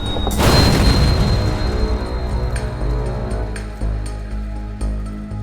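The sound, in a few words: explosion of a Mitsubishi van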